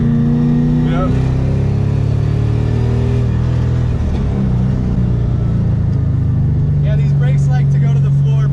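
A stock Mazda RX-7 fitted with an LS1 V8 pulls hard through second gear on back roads, a loud, close engine roar climbing steadily in pitch with a deep droning rumble underneath.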